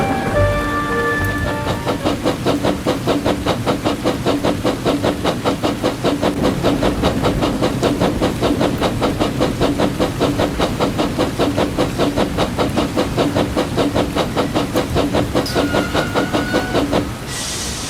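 A runaway freight train speeding at about 72 miles an hour: a loud, continuous roar with dense, rapid rhythmic clatter that runs steadily and then stops abruptly.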